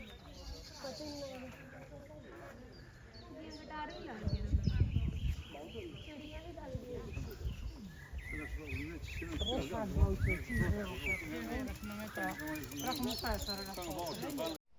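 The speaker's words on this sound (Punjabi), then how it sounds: "ਆਵਾਜ਼ਾਂ ਕਿੰਨੀਆਂ ਸੋਹਣੀਆਂ ਪੰਛੀਆਂ ਦੀਆਂ ਹਨਾ" Birds chirp and call in a village in the Netherlands, with bright twittering scattered throughout while people talk over it at moderate volume.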